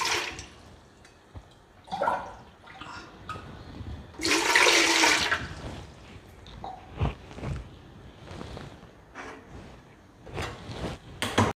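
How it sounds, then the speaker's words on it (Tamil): Two tumblers of water are poured into a pot on a stove, one clear gushing splash in the middle amid scattered clinks and small knocks nearby. "2 டம்ளர் தண்ணி விட்டுக்குங்க"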